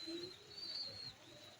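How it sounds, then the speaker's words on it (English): Breeding pigeons cooing at a bird loft, soft low throaty calls heard faintly against a thin high whine in the background. "Yeah, really great pigeons."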